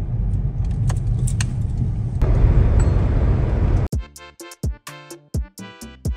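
A car driving toward a local gas station, with steady road and engine rumble for a few seconds, then a rhythmic series of sharp clicking or ticking sounds replacing the drive noise.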